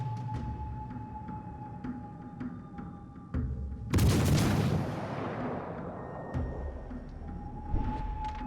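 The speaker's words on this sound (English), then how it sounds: "He's going to eat this torpedo. Massive chunk of his health gone." A torpedo strikes a ship in a naval video game, a sudden heavy explosion booming out over ambient game sounds and rumbling away in a long decaying roar, with faint clanks around it.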